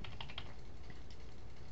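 Keystrokes on a computer keyboard, a short run of a few taps early on and then quieter, sparse clicks over a steady low background hum, with no voices.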